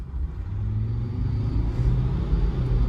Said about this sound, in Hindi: अभी मैं आपको इसका पिकअप चेक कराता हूँ गाड़ी का।